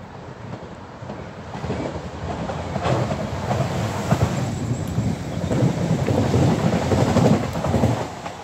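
A passenger train rumbles in toward a station near Holytown, a broad rolling roar building and swelling across the whole stretch with no talking.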